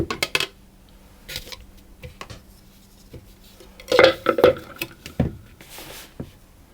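Crumbly ginger shortbread mixture is tipped out into a bowl, giving scattered soft patters, scrapes and light clinks of utensil against the bowl. A denser cluster of knocks comes midway, all close and fairly quiet.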